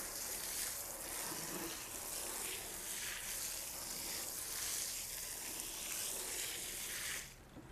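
Water is poured into concrete mix by hand, making a steady close hissing splash that runs unbroken for several seconds before cutting off sharply near the end, with no talk.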